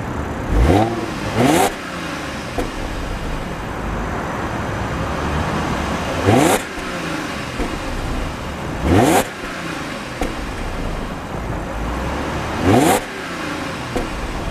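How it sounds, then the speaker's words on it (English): A 2011 Audi A6 3.0T Quattro S-Line engine revved from inside the car, with four sharp throttle blips rising and falling over a steady idle, close and loud with no talking. "step inside and give this one a rev."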